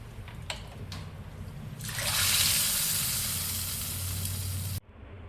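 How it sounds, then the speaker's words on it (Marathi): Hot tadka tempering hits spiced buttermilk with a sudden loud sizzle that swells and then hisses steadily before cutting off abruptly, preceded by a few small clinks. "आणि असा हा तडका आपण ताकाला वरून देणार आहोत."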